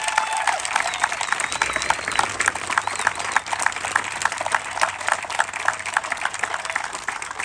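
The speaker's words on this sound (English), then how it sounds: "Let's have a round of applause for them." A crowd outdoors at a peace officers memorial run in a park claps in dense, steady applause that carries on evenly and loud for several seconds, with faint cheering mixed in.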